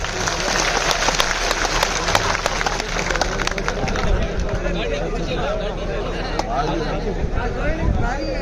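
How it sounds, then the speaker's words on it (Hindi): Crowd applause at a Bharatiya Janata Party political gathering welcoming a new member, a dense, steady wash of clapping mixed with crowd hubbub and a voice over the top throughout. "ताली पीट स्वागत करो भाई साहब को।"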